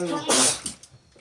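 A single sharp sneeze bursts out close by, followed by faint rustling.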